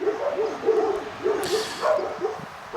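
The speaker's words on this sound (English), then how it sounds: "the dogs barking" Several dogs bark and yip in short, irregular bursts at a dog-training facility, moderately close, with a brief whimpering note mixed in.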